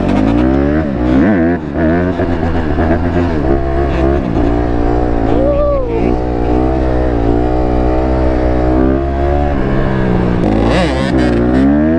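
A two-stroke motorcycle engine runs loud and close at a lot, its buzzing note holding steady, then rising and falling with throttle changes throughout.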